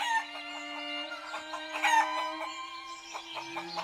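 Chickens in a village chicken coop cluck and squawk in a close, lively chorus, with a steady low tone beneath and a short rising call near the end, without any talk.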